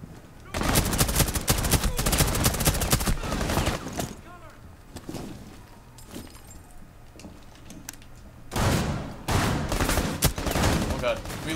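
Rapid pistol gunfire in the shooter game Rainbow Six Siege: loud bursts of shots in clusters, with game effects and a quieter stretch between volleys.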